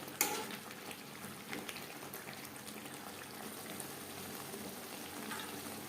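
Potatoes cooking in a pan over a gas flame for fish curry, a faint, steady broadband sizzle and hiss with one brief scrape of stirring near the start, no talking.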